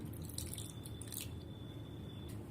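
Water trickles and drips into a semolina and curd batter in a quiet kitchen, a short soft stream heard alone.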